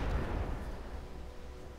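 Artillery in the game Civilization V fires on infantry: a deep booming blast at the start that rumbles and slowly fades away.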